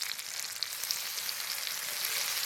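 Browned chopped onion with freshly added chopped tomato frying in oil for a rustic oyster curry, a continuous bright sizzle with faint crackles, close and steady without pauses.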